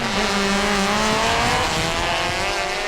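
Race cars on a flat paved circuit in a touring-car class race at Pira circuit, one an Evo 7, with a loud sustained engine roar and steady droning tones as cars run onto the straight, no talking.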